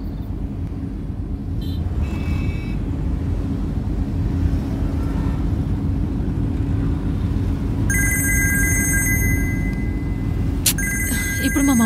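A mobile phone rings with an incoming call inside a moving car, its repeated electronic ringtone cutting in partway through over a steady, low engine and road rumble.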